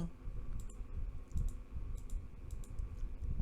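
Keys clatter in quick irregular bursts on a computer keyboard inside a horror video game, faint and steady over a low droning ambience.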